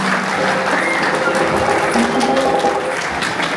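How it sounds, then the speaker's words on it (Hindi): Audience applause for the performers' parents fills the hall at a Ram Janmabhoomi Pran Pratishtha celebration, a dense, loud and continuous clapping from a crowd that lasts the whole moment. "एक बार ताली उनके माता पिता के लिए भी लगा दीजिए"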